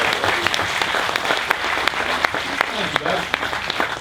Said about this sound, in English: I think we need a bigger round of applause though for the first pole position and the first win of the BTCC 2018 for Jack Goff.